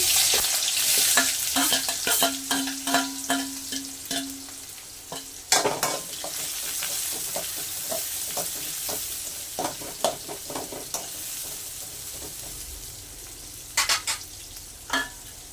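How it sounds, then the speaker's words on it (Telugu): Mustard seeds frying in oil for mutton gravy, a light crackling sizzle broken by sharp pops and a few louder spoon clanks against the pan, with no one talking. "ఆవాలు వేగిపోయాయి."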